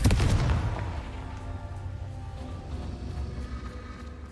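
A Confringo blast spell in a video game bursts loudly at the start with a heavy booming impact, then leaves a lingering rumbling, crackling tail that slowly fades over several seconds.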